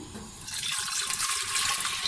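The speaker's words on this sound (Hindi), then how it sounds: "सबसे पहले हम इसके अंदर डालेंगे पानी," Water pours into a cooking pot for whole masoor dal, a steady close gushing stream with slight bubbling changes as the level rises.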